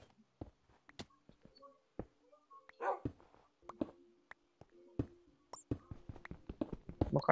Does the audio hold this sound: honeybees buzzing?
no